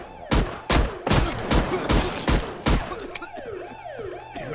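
Shotgun blasts aimed at zombies in the survival shooter Zompiercer, about seven loud, evenly spaced booms in quick succession, followed by a rising and falling siren-like wail.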